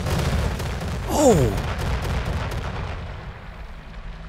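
A big in-game explosion blows up a group of enemies in Weird West, a sudden boom swelling through a noisy battle with a descending whistle, while a voice exclaims briefly.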